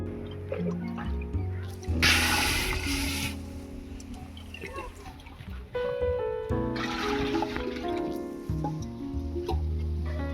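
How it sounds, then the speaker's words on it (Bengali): Warm water is poured for a vapa pitha recipe, a splashing gush with a louder burst early on, then continued trickling and sloshing over a steady hum. "উষ্ণ গরম জল আমি করে নিয়েছি, এবারে ঢেলে নিলাম"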